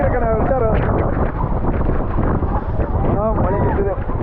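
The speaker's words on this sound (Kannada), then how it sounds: "ಮಳೆ ನಿಂತಿದೆ, ಗಾಳಿ ಫುಲ್ ಸ್ಪೀಡ್ ಬರ್ತಾ ಇದೆ." Strong wind gusts buffet the microphone on Nethravathi peak trekking trail after rain has stopped, a loud continuous roaring rush with people talking over it.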